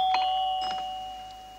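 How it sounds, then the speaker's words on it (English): A doorbell rings once, a clear two-tone chime close by that rings out and fades in a quiet room. "It's just the doorbell."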